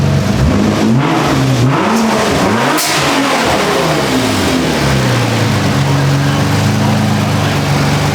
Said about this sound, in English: hear the blow-off valves actuating